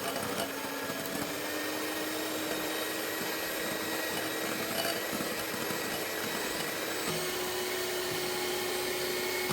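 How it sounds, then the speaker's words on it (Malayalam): An electric beater whirring steadily through carrot, dates and raisin cake batter, a constant mid-level motor hum with a slight pitch shift partway, no clear talk over it. "വീണ്ടും അത് നല്ലതുപോലെ ബീറ്റ് ചെയ്യും."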